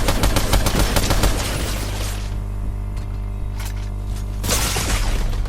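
Dense bursts of gunfire in the Fortnite game, shots shattering a rock, loud and close for about two seconds, then a quieter lull before another burst of impacts near the end.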